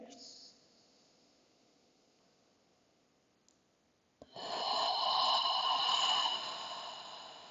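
Deep, slow breathing during a calming yoga flow: a quiet stretch of near silence, then a broad, airy rush of breath that swells loudly and holds steady for several seconds, close to the mic.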